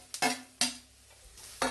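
Ivy gourd fry with coconut pieces and curry leaves is stirred in a pan, giving three or four quick scraping strokes over a faint sizzle.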